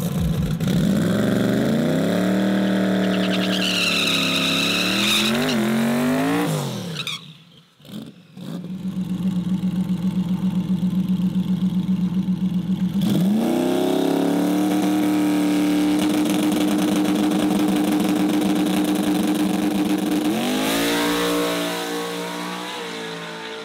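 A Foxbody Mustang drag car makes a full-throttle run, its engine screaming up through the gears with rising revs, a brief drop at a shift, then sustained loud wailing that fades toward the end.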